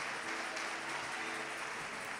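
Applause for God rises from a church congregation during a Spanish-language sermon, a steady broadband wash of clapping that sounds somewhat distant and fairly quiet throughout.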